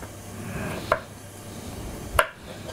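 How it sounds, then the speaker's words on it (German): Knife chopping pickled gherkins on a board: two separate sharp cuts, clean and close, spaced over a second apart, with quiet kitchen background between. "Währenddem schneiden wir die Gewürzgurken."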